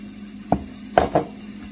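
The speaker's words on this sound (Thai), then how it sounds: "ตำแตงตำพริกนะคะ" Cucumber and chili being pounded in a mortar with a pestle: three hard, close thuds, one alone and then two in quick succession, with no talking.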